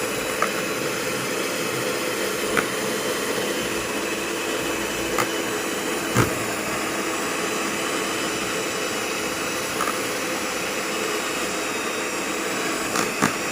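An electric mixer churns ice cream in a steady, unbroken whir that holds level for the whole stretch, loud and close, with a few faint clicks over the drone.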